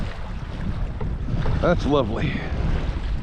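Steady wind gusts across Cherokee Lake during a kayak fishing tournament, roaring loudly against the microphone while a voice speaks briefly over it.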